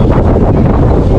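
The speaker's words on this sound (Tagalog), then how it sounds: "Mahangin saka malamig." Strong, cold wind at Victoria Peak in Hong Kong buffets the microphone in a constant, loud, broadband rush that never lets up, with no speech.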